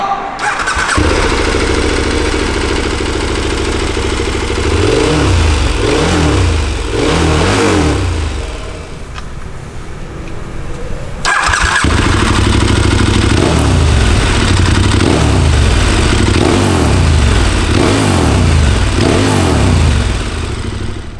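A KTM 1290 Super Adventure T motorcycle fitted with a MIVV aftermarket exhaust idles loudly and close by, then is blipped through several rising-and-falling revs, with a louder stretch of repeated throttle bursts in the second half.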